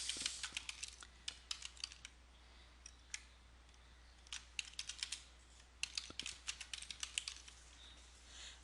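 Someone types a description into a holiday-registration form on a computer keyboard: quiet, close keystrokes in irregular bursts and pauses, with no speech.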